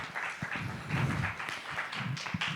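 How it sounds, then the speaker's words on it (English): A conference audience at a panel discussion on nuclear power in Kenya applauds as a panelist walks onto the stage, a moderate, steady patter of clapping from a modest crowd. "Please give her a round of applause as she makes her way."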